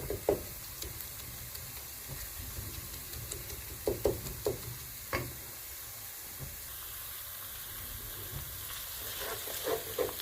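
Garlic, ginger and onions fry together in a pan with a soft, steady sizzle, broken by occasional utensil knocks and stirring scrapes, fairly quiet and with no talk.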